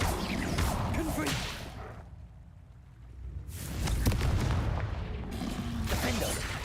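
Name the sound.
Confringo blasting spell cast in a wizard video game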